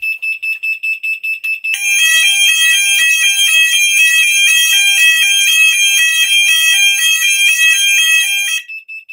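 A fire alarm system on a ZFP addressable loop sounds after a detector trips: a rapid repeating electronic tone first pulses alone, then a loud continuous pulsing sounder pattern joins and fills the room for several seconds before cutting off.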